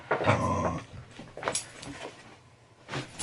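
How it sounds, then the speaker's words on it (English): A pet dog playing at home, giving a burst of loud yips, whimpers and growly huffs at the start, then scattered shorter vocal bursts and scuffling, close to the microphone. "playing with my dog."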